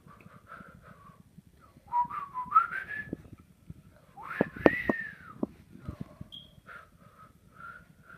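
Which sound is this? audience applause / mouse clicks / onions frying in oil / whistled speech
whistled speech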